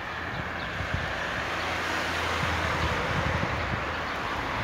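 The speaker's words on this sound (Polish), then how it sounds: "Dzisiaj trochę jest wiatr." Outdoor wind near a pigeon loft in Elbląg buffets the microphone in a steady broadband rush with low rumbling gusts, continuous and fairly close, with no talking.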